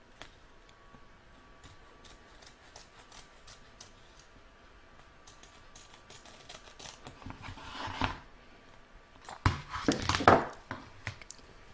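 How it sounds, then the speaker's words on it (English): Scissors snip through an embroidered placemat fabric to free it from the embroidery hoop, a quiet run of small ticking cuts that grows into louder, denser snipping and rustling near the end. "I'm going to take my scissors, turn it over and cut it away."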